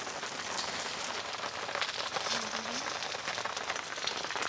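Steady drizzle patters densely on surfaces close by at a mountain campsite in Italy, a continuous hiss of drops with no voices.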